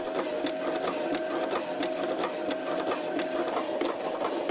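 A vintage hydraulic hacksaw cutting through a metal workpiece, a steady mechanical drone with a regular back-and-forth stroke rhythm, continuous and close.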